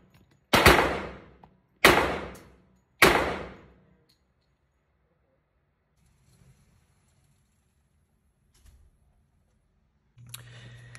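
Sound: Colt 1911 pistol gunshots at a shooting range

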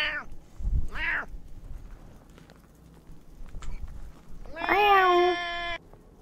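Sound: voice imitating a cat meowing

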